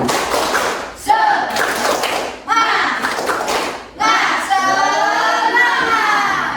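Schoolchildren in a sixth-grade classroom perform a rhythmic clapping chant, loud bursts of patterned claps mixed with their voices, in three sections with brief pauses, the last ending in sustained shouting.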